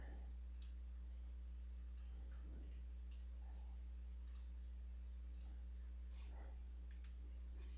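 A computer mouse clicks faintly and sparsely in a quiet room during CAD spline work, with about a dozen soft, irregular clicks over a low steady hum.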